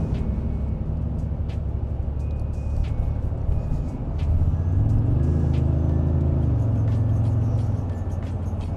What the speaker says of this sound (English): the only thing you can hear is the burble of that engine when it cuts in.